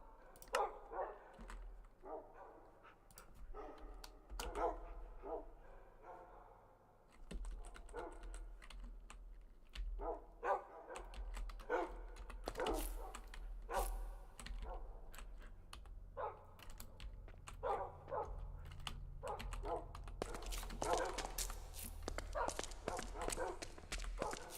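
Dogs in a video game bark in short bursts while someone pets them. Busy computer-keyboard typing and clicking runs throughout, along with faint footsteps and a low background hum.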